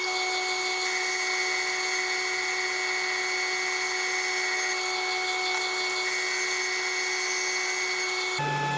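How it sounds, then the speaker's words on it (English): A bandsaw cuts a small wooden piece for a candle holder, giving a steady high whine with strong tonal bands that runs continuously for about eight seconds, then shifts pitch briefly at the end; no talking. "So since this is such a small piece, I have to cut it on the bandsaw."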